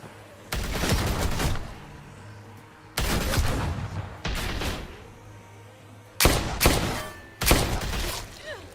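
Heavy gunshots boom in The Walking Dead game, four or five loud, close blasts spaced a second or two apart, each with a long echoing tail, with little talk around them.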